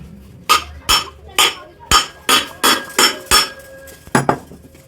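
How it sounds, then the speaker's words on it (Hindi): A ceiling fan's bearing plate being tapped out with light hammer blows: about ten sharp metallic knocks in a steady rhythm, close and fairly loud, with no talking. "हल्का सा ठोक कर देख लें प्लेट बाहर आ रही है या नहीं आ रही।"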